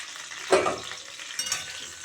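Rohu fish head frying in hot oil gives a steady close sizzle, with two louder bursts of spattering and stirring about a second apart.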